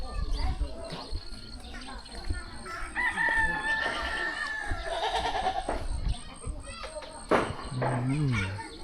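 Roosters crowing and chickens clucking in a hill-tribe village in the early morning, with pigs and goats kept nearby; several calls rise over a busy outdoor background with people talking.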